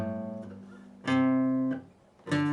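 Guitar playing part two of a guitar solo at a slow tempo, with three sustained, ringing note attacks spaced about a second apart, heard alone and up close.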